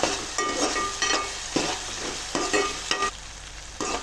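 Curry masala frying and being stirred in a pan for a meal maker chicken curry, a steady close sizzle broken by repeated scraping strokes of the spoon roughly every half second.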